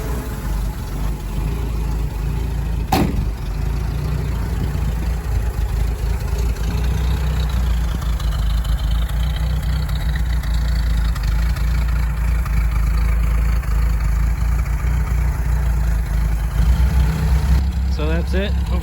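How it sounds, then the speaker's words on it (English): A cab-over-engine 4x4 Jeep idles close by, its exhaust giving a steady low rumble that holds evenly throughout with a brief sharp click early on. "Fire it up and let you hear the exhaust."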